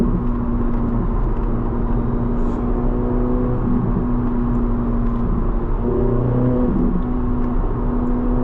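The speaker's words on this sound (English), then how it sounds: "I can't believe Corvette put a naturally aspirated V8 in this thing." A naturally aspirated mid-engine V8 in a 2023 Chevrolet Corvette Z06 3LZ drones loudly and steadily from the cabin while driving, with small shifts in pitch from changes in revs.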